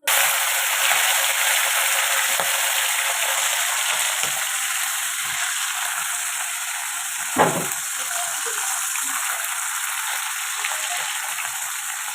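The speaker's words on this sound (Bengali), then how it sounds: "আর এখন আমি বসিয়ে দেবো আমার কড়াই, মানে মাছটা ভেজে নেবো" Hilsa fish frying in a wok makes a steady, close hiss of hot oil with one sharper pop partway through and a few faint clicks, with no talk.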